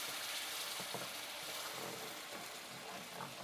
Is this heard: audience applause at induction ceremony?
no